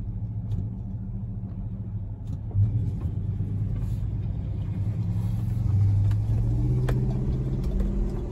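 A boxy Chevrolet car drives along with a steady, loud low engine rumble and road noise throughout, swelling slightly near the end with no talking.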